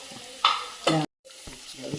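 Cauliflower kofta frying and being stirred in a pan, with two bursts of scraping stir and sizzle, a brief dropout, then softer sizzling clatter close by.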